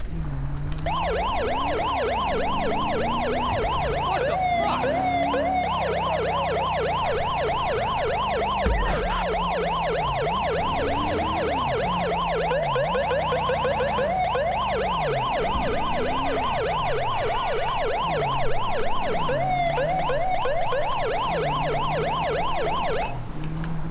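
A police car siren in GTA V wails steadily and loudly throughout, its tone cycling in fast, regular sweeps with a low engine drone underneath and no talk.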